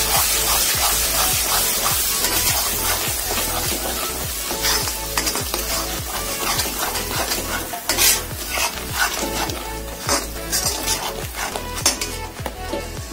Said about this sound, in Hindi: और अब ये पिसा हुआ जो हमने पेस्ट बनाकर रखा है उसको डालेंगे और सभी मसालों को मिक्स कर लेंगे।